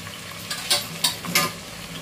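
Chopped onion frying in a pan for a home-cooked masala, a steady low sizzle with a few louder stirring scrapes and pops close by, no voices.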